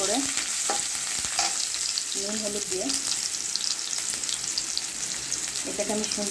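Raw plantain slices frying with salt and turmeric, a steady close sizzle of hot oil running throughout with a few faint scraping and stirring knocks.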